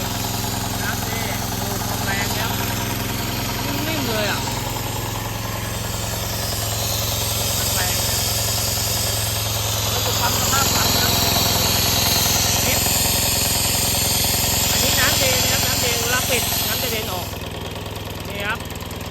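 An old Japanese sprayer pump engine idles with its throttle locked, a steady, busy mechanical drone running throughout with voices talking over it.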